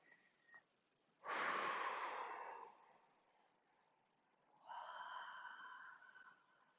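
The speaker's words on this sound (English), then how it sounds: "Breathing into that." Two slow, deep breaths during meditation, a long airy inhale-like rush followed by a softer, longer breath a few seconds later, quiet and close with no talking.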